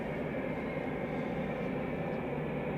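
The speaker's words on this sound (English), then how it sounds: "Another EasyJet taxiing out." An EasyJet airliner taxis out at Manchester Airport, heard as a steady, broad engine roar and whine that stays constant throughout, with no talking.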